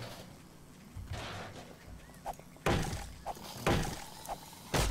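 Zombies in the video game 7 Days to Die bang on walls outside, a series of dull thuds and knocks at irregular intervals, muffled and moderately near, with no talk.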